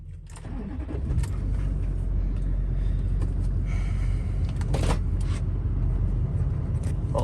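An International Scout II truck under restoration idles loudly up close after starting, a rough, steady engine rumble punctuated by a few clunks and rattles as it is put in gear to be driven onto a trailer.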